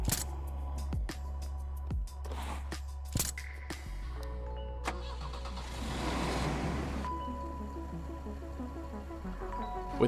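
A truck engine runs and drives in the zombie survival video game Terminus: Zombie Survivors, a steady low rumble with clunky mechanical clicks and bursts early on, moderately quiet and without speech.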